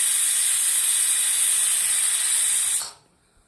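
Loud, steady steam whistle from a pressure cooker of brinjal and valor bean curry, a continuous high hiss lasting nearly three seconds before fading quickly to quiet.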